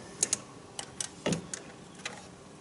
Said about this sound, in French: tu rajoutes la deuxième douille, enfin le deuxième rallonge, le cliquet, et tu viens dévisser l'ensemble